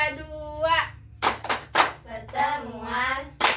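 Women chant in unison during a family-strengthening group session, with sharp, tightly synchronized group claps hitting in a rhythmic pattern between the sung phrases, close and clear.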